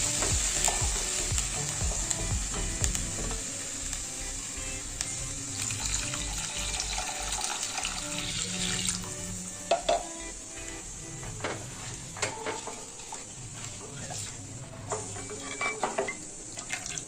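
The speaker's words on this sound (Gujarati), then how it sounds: "અહીંયા આપણું બેટર છે એ થોડું જાડું છે, તો આપણે અહીંયા પાણી પણ એડ કરવાનું છે." Water added to a thick gram flour batter for Kathiawadi kadhi, a long running pour and splashing over a steady sizzling background, followed by scattered clinks and stirring sounds, moderately loud with no talk.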